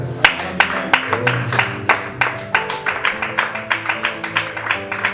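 A church congregation claps in steady rhythmic unison, sharp loud claps roughly every quarter second with a musical or sung background underneath, continuing throughout.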